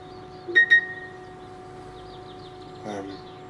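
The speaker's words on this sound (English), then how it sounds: "Sorry about my phone going off." A mobile phone goes off with two quick bright beeps, then a brief warbling chirp a couple of seconds later, fairly quiet over a steady low hum.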